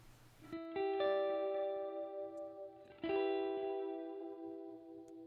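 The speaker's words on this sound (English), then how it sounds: "We can hear very clearly an echo." Sustained synth-like tones ring out with a reverb effect in a mixing demo, each attack followed by a clear repeating echo and long decaying tail, with no voices.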